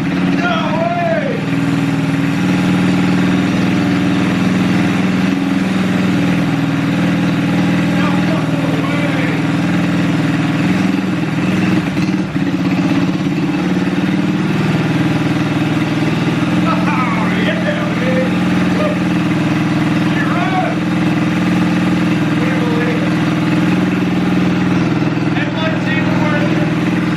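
An abandoned Ski-Doo Mini-Z snowmobile, left in pieces and sitting for years, runs steadily after starting, a loud continuous mid-pitched engine drone with a faint wavering hum and no speech over it.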